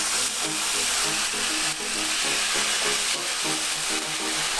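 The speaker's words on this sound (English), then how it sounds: "Look at that, oil's frying." Streaky bacon sizzling and frying in hot oil in a pan, a steady close hiss with crackling spits running throughout, no talk over it.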